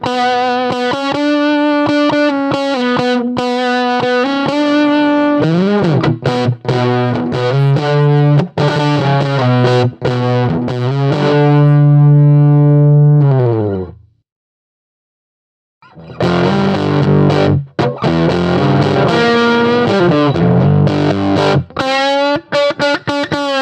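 Fuzz-drenched electric guitar through a Birdsong Kestrel amp, playing a long, loud stretch of chugging riffs and held chords, pausing briefly into silence before resuming with dense distorted strumming; no voices.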